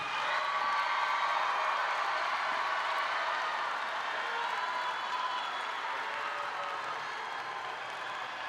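Audience applause for graduates at the Northwest High School graduation ceremony, a dense, steady wash of clapping from a large crowd that holds for several seconds and fades slightly toward the end.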